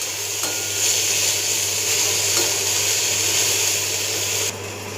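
Dried fish (sukat) being stirred with garam masala, coriander powder and salt in a pan, a steady close scraping and stirring texture over a low kitchen hum with faint sizzling, no talking.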